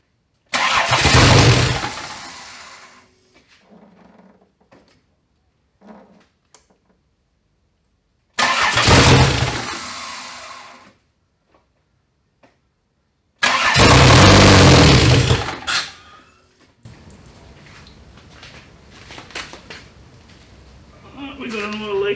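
A turbocharged Ecotec engine swapped into a BMW E46 cranks and fires three times in loud bursts, each catching and running briefly before cutting out, with quiet gaps between and a lower, rougher running sound at the end.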